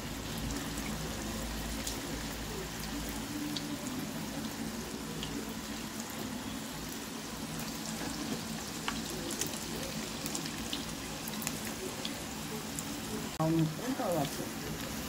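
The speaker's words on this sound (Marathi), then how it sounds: "आता याला मीडियम टू लो फ्लेम मध्ये तळून घेऊया।" Street-style Manchurian balls deep-fry in oil over a medium-to-low flame, giving a steady, soft bubbling hiss with faint scattered pops and a brief louder clatter near the end.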